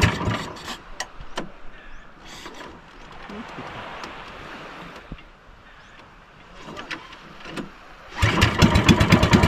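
A gasoline engine cranks with sharp intermittent bursts, then catches and runs with a rough mid-pitched drone, growing louder and more rhythmic near the end, while people talk nearby.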